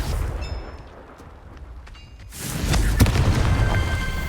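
A Confringo fire spell explodes in Hogwarts Legacy, opening on a quiet stretch with faint chimes before a sudden loud blast, a heavy rumbling boom and a sharp crack that trails into a sustained roar.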